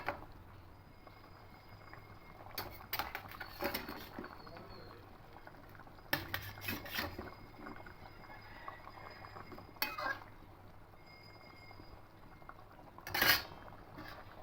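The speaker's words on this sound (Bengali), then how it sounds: "ঝোলটা ফুটে এসেছে এবার ডিমের আমলেটগুলোকে দিয়ে দেবো" Egg omelettes go into a pan of simmering curry. A few scattered clinks and scrapes of utensils against the pan sit over a faint, low bubbling.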